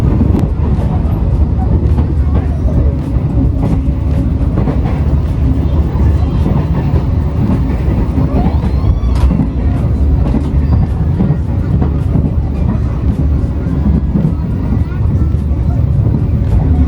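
KA Dharmawangsa passenger train rolling on rails on a Jakarta–Lamongan trip, a loud steady onboard rumble with faint rhythmic clatter throughout.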